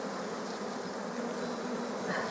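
Honey bees swarm around a hive frame in a garden apiary, filling the air with a steady, close, continuous buzzing hum that never lets up.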